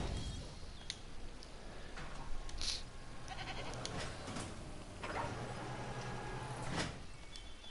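Goats bleat at a goat feeder in a dinosaur park-building video game, with a few scattered bleats rising over a soft, continuous ambient background.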